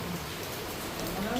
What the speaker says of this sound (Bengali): আরো বাড়লো বৃষ্টিটা